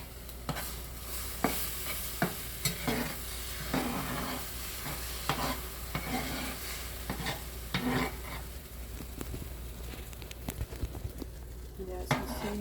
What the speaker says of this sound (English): You guys can see the eggs cooking here.